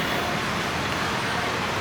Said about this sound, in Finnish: Jonkun verran liikennettä ja kyllä ne töötit huutaa